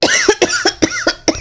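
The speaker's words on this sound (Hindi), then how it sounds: "खांसी आ रही है" A person coughs in a quick series of four or five harsh, close bursts in a home kitchen, loud and alone without talk.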